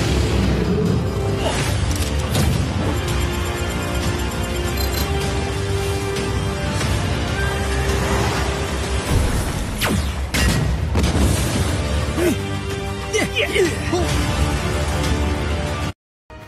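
A fuel storage tank bursts after being hit by gunfire in an action film scene, a loud sustained booming blast with crashing debris and rumbling that fills the whole stretch before cutting off abruptly.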